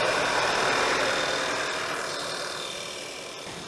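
A car engine idling just after a turbo replacement, a steady broadband mechanical hum and whir that holds close and fairly loud, easing slightly toward the end with no talking.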